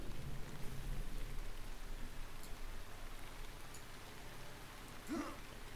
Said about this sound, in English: Yes, I hear the rain fall.